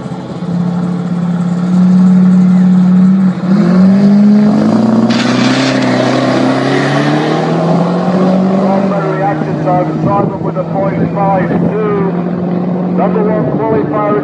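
A V8 turbo Ford Cortina drag races at York Raceway, its engine a steady, loud drone that rises and falls through the run. A commentator talks over it.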